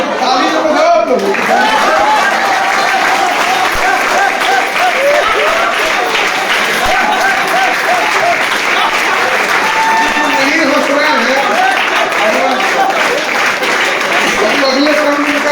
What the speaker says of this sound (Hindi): ताली तो बजाओ आप लोग।